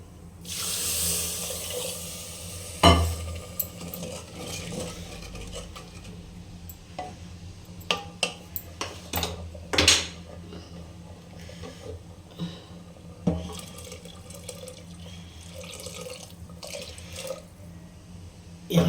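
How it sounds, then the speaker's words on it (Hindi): Milk poured into a pan of roasted broken wheat porridge for a Bihari wheat kheer, with liquid splashing and trickling alongside scattered clicks and knocks of a pan and utensils, fairly faint and without speech. "अब इसमें हम दूध डाल देंगे।"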